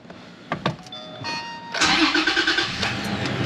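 A Toyota Tacoma's engine cranks over and catches within a couple of seconds, a few clicks and chime-free quiet giving way to a steady close-up idle.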